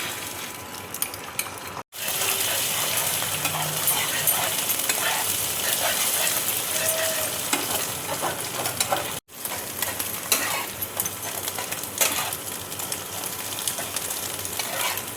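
Oil sizzling in a frying pan with an egg cooking, a steady crackling hiss broken by two brief silences, with faint utensil clinks.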